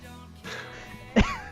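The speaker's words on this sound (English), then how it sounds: "Smoker's cough." Faint breathing, then one short, harsh smoker's cough bursts out loudly near the end.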